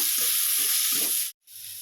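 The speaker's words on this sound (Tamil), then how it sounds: "இப்போ இதுக்கு அடுப்பை கம்மியாக வச்சு ஒரு லேசாக வதக்கி எடுத்தாங்க" Turmeric, coriander powder and cumin sautéing gently on a low flame, giving a soft steady sizzle with a few light stirring scrapes before it cuts off briefly.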